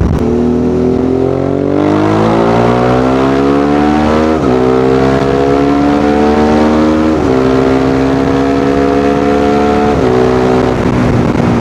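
A Suzuki V-Strom 650 motorcycle with a GPR aftermarket exhaust revs repeatedly, pitch climbing in stepped surges with brief drops between gears, throaty exhaust roar throughout.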